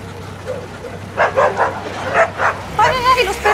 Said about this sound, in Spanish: ¡Ay, ay, ay! ¡Los perros!